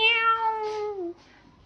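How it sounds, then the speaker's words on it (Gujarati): A cat that wandered in hungry off a bus gives a single clear, drawn-out meow close by, falling in pitch at the end, followed by quiet. "શું આવ્યું? મીંદડી"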